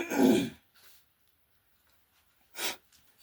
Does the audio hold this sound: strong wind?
no